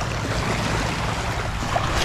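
Steady wash of water and wind noise around a fishing boat off Palawan, a continuous low rumble with choppy surface sounds and no talking.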